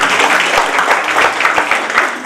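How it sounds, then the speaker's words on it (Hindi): Applause from an audience at a public event in Darbhanga, a steady wash of clapping lasting a couple of seconds with a few sharper individual claps standing out. "मैं तालियां सुनना चाहता हूँ प्लीज।"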